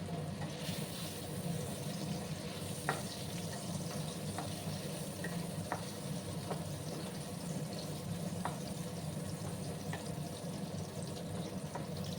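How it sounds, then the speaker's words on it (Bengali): Potatoes frying in oil for a drumstick recipe, a steady bubbling sizzle with occasional soft crackles, close and continuous with no voices. "লাল লাল করে আলুগুলোকে আমি ভেজে নেব"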